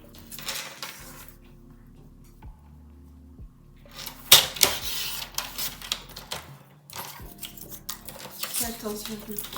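Scissors snip through paper scraps for a 15 x 15 cm scrapbook mini album page, a few sharp cuts and rustles close by with some tapping and handling noise between them.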